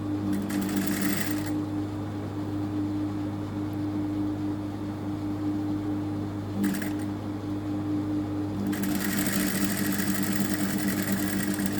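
A sewing machine stitches a zipper into clothing, a close steady motor hum running throughout with brighter rattling stitch bursts at the start, briefly near 6.7 seconds, and again from about 9 seconds.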